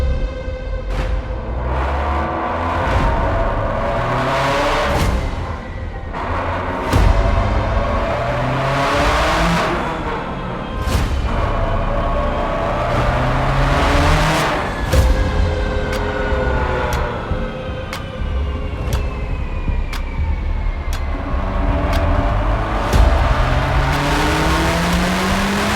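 A tuned 836 whp 2017 Subaru STI, boosted to 45 psi and running E89 ethanol, screams through a dyno pull. The engine revs up in repeated rising sweeps with sharp breaks between them, loud and close.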